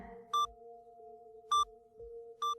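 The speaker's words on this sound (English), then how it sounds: "He heard the slow beeping noise turn into a continuous sound." Three slow electronic beeps, evenly spaced about a second apart, each a short bright tone over a steady low hum.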